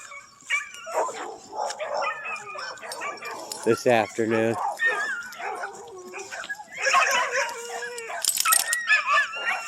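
A dog carries on with a mix of whines, yips and a low scream-like cry, heard among other dogs while a person speaks nearby in an outdoor yard.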